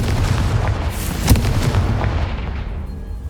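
Confringo fire-blast spell in Hogwarts Legacy, a dense rumbling blast that swells and peaks sharply partway through, loud and sustained against a busy game backdrop.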